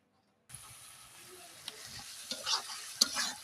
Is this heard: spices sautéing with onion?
yes